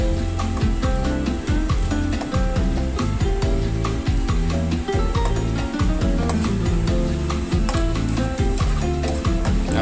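Garlic sautés in butter in a pan, a continuous sizzle with repeated scraping and stirring sounds from a utensil running steadily throughout.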